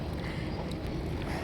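A kayak out on the sea at Maravanthe beach, with a steady close wash of water and wind buffeting that never lets up.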